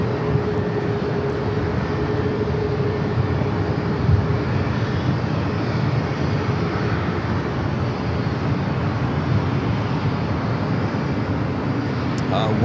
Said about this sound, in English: Rumble on the north side is American Airlines Flight 3078 coming from Pittsburgh at 737-800